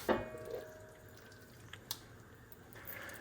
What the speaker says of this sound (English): I'm gonna go ahead and add in a bit of my pasta water too